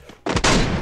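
A gunshot in the video game Free Fire, fired from a garrucha: after a brief quiet moment, a loud, sharp burst of two or three quick reports rings out and trails off.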